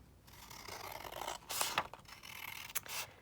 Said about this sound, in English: So I'm just going to cut her out.